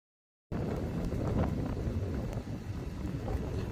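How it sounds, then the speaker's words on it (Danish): Strong wind blowing outdoors on a blustery day in Denmark, a steady rumbling buffet against the microphone with gusts rising and dipping, loud and close, no voices. "Det blæser rimelig meget"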